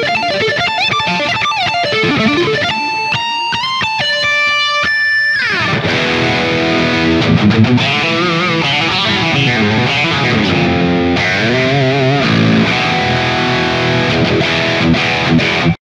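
An overdriven electric guitar plays ringing notes, then launches into full distorted chords and riffs washed in reverb, loud and continuous with no voices.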